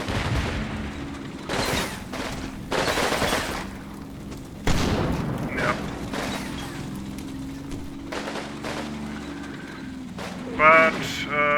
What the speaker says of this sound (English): Yeah, see, the mortar's still shooting.